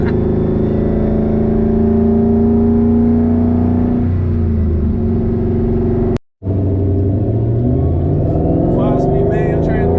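Engine of a 2004 Ford Mustang Mach 1 with a 5-speed manual pulls loud and steady from inside the car, pitch rising through the rev range, with a brief gear-change gap followed by more throttle and some crackling pops.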